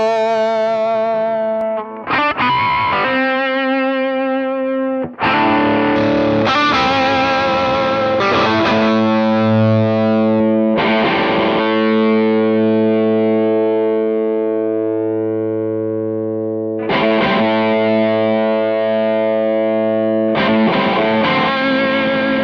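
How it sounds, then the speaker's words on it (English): Electric guitar run through a Tonex One amp modeler into a small 1x8 Champ combo, playing sustained distorted chords and notes with pauses between phrases, loud and alone with no talking. "Let's see what that sounds like into a 1x8 champ."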